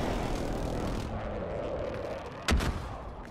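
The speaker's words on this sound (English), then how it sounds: "They're trying to airstrike me now." Airstrike explosions in a first-person shooter video game: a continuous rumbling battle din with a loud, sharp blast near the end, over steady background noise.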